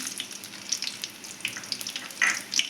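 Mustard seeds, tempering spices and a dried red chilli frying in hot oil with onion pieces for a ridge gourd and moong dal curry, giving a soft, steady crackle with scattered sharper pops, close and alone.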